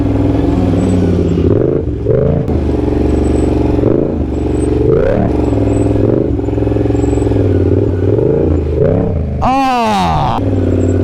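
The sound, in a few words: motorcycle engine revving during circle wheelie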